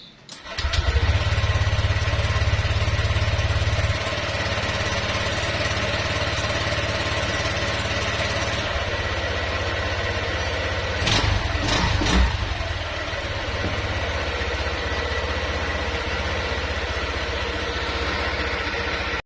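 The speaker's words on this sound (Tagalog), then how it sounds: "Yan, testingin na natin motor." A Honda Click 125 scooter engine under repair starts and runs steadily, a loud continuous drone with a low throbbing hum that dips briefly about midway before settling back to an even idle.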